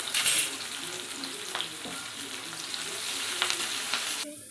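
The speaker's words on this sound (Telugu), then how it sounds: "ఇదైతే ఇప్పుడు ఆనియన్ కుక్ అయిపోయిందండి" Chopped onions, green chillies and curry leaves with a little salt sizzle steadily in a pan for aloo paratha filling, a continuous close frying hiss with brief stirring scrapes and no talk.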